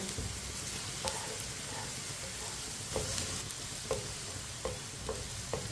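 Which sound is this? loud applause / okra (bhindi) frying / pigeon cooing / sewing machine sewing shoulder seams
okra (bhindi) frying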